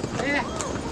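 Horse hooves clip-clop on a crowded path as the animal is jostled among people, a short burst of close steps under the murmur of a busy crowd.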